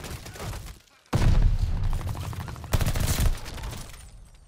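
Rapid automatic weapon fire in the shooter Call of Duty: Vanguard, with multicolored tracer rounds, comes in two loud sustained bursts separated by a short pause, after a brief softer stretch at the start.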